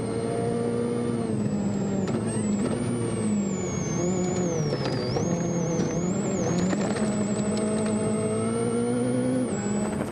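A Ford rally car roars through a WRC powerstage at Wales Rally GB 2011, engine revving hard and shifting continuously, loud and sustained for the whole stretch with no talk.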